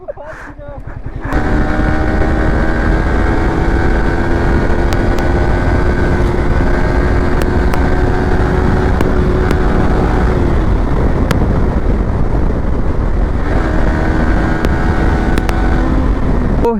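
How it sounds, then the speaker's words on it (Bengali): A Bajaj Pulsar N160 motorcycle revs loudly and close during a wheelie attempt, its engine note swelling and dropping in pitch over a constant throaty drone. "চলো গাইস, আমি একটু হুইলি মারার চেষ্টা করি"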